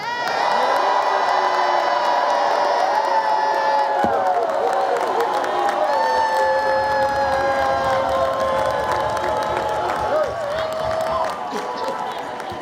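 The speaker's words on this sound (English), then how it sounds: "How about one big Federation cheer?" A large banquet crowd in a hotel ballroom gives one big cheer to close a Federation convention, loud and sustained, with whoops, shouts and scattered applause fading slightly toward the end.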